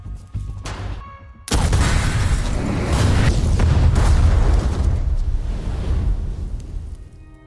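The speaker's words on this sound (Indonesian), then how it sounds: "Mereka meledakkan sebuah kantor perusahaan." A company office blown up in a film: after a few seconds of lower rumble, a sudden massive blast erupts into a sustained roaring, crackling wall of fire and debris that stays loud and dense for several seconds.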